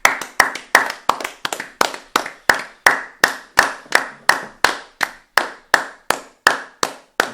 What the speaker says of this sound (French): bah on applaudit